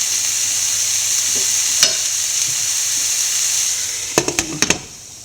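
Broccoli and egg thoran cooking in a covered pan, a soft steady sizzle and hiss held low throughout, then a few sharp clanks of a lid or utensil near the end.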